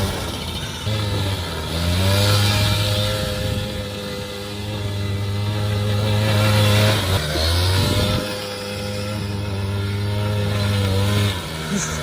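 A Suzuki LT80 ATV's small engine revs loudly and steadily for about twelve seconds, dipping briefly twice around the seven- and eleven-second marks before climbing again, with no talking.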